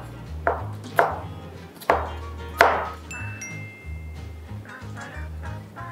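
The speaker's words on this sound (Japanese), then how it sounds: "でこれをみじん切りに" Vegetables are finely minced with a knife on a cutting board, a few firm, spaced knife strikes followed by lighter, quicker taps, close by with no talk.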